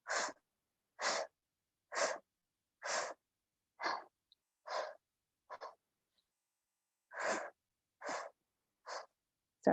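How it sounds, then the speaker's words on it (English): Heavy, rhythmic breathing close to the mic, about a dozen strong breaths at a steady pace with short pauses, the effortful panting of someone mid-workout. "Sorry for the heavy breathing, guys."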